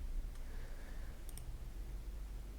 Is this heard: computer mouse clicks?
yes